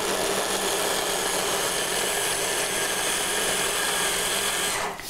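Blender whirs loudly and steadily as it mixes cashew nuts, a dense motor drone running without a break before winding down abruptly at the end.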